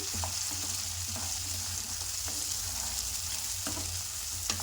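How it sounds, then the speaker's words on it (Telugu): Lotus seed (makhana) masala frying in oil in a pan, a continuous loud sizzle with occasional stirring scrapes, close and steady throughout. "ఫ్రై చేసుకోవాలి. ఇది మంచిగా ఫ్రై కావాలండి."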